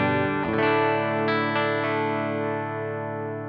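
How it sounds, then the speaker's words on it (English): An electric guitar through the clean channel of a Laney L5 Studio amp rings out a few strummed chords that sustain and slowly decay, close and clear with no talking. "It's a really neutral sound in the clean channel of the amp"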